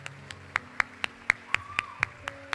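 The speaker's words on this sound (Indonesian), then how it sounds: "hari kita berikan tepuk tangan yang meriah untuk Ustadz Ustazah kita semua" At an SMP Cordova school farewell in the Hotel Mercure Samarinda, people clap for the teachers. About ten sharp, separate claps land at a steady pace, close and fairly distinct, over a faint background tone.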